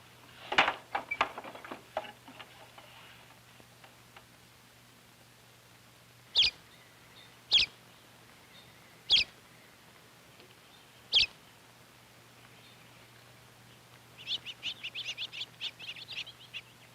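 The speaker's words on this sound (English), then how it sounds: "several different kinds of birds have come to their feeding tray" Several birds chirp at a backyard feeding tray, a burst of quick calls at the start, then four sharp separate chirps spaced a second or two apart, and a fluttering run of twitters near the end, all fairly faint over a steady low hum.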